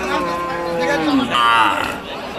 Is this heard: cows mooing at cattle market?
yes